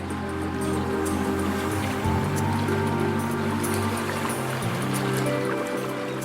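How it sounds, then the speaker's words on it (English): A waterfall in Kyrgyzstan plunges from high cliffs, its steady roaring rush of water continuous and fairly close, with splashing texture and no voices. "the noise of falling water attracts and tempts us"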